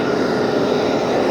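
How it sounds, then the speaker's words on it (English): Asiana Airbus A350 airliner at JFK airport, a steady loud roar of jet engines close by, continuous and unbroken with no voices. "look at that plane"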